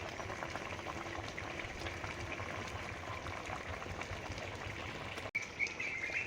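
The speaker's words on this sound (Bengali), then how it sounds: "ঝোল ফুটে গেছে, এবং মাছ দিয়ে দিচ্ছি।" A pot of rohu fish curry broth bubbles and boils at a steady roll, a dense continuous simmer with a brief clatter near the end as the fish goes in.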